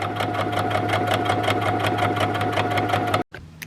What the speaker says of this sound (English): as I'm sewing, I'm just making sure that that folded edge runs on the inside of that blind hem foot